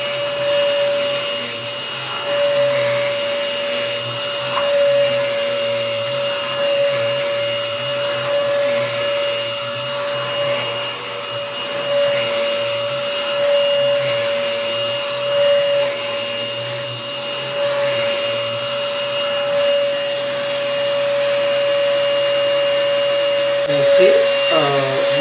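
A cordless two-speed vacuum cleaner whines steadily with a high tonal hum throughout, shifting slightly as it moves over surfaces, while someone talks over it.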